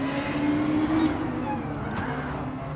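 A race car in the Gran Turismo 7 video game slides on the track on soft tyres, its engine droning steadily under a brief tyre squeal, loud and continuous.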